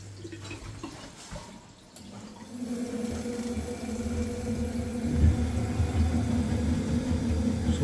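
A hot water tap runs beside a faulty Ferroli central heating boiler, giving a steady rushing hiss that grows fuller after a brief quieter moment, with a low hum underneath and no talking.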